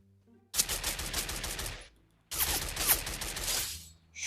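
Two sustained bursts of rapid automatic video game gunfire in Free Fire MAX, loud and close, separated by a brief pause, with a few sharper cracks mixed in.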